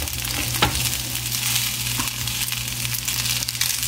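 Food being stirred and mixed in a hot pan in a home kitchen, a steady frying sizzle with scraping strokes of the spoon, one sharper scrape near the start, no voices.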